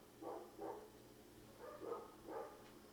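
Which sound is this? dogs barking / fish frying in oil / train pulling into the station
dogs barking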